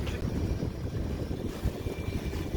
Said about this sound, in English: here comes a barge